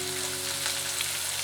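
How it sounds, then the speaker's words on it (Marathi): Onion and capsicum frying in a pan for baby corn chilli, a steady close sizzle holding evenly throughout with no talk over it. "आता मी यामध्ये कांदा आणि शिमला मिरची घालत आहे।"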